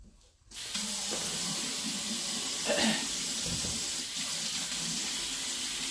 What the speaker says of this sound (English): Let me wash my hands real quick because I just picked the trash can up.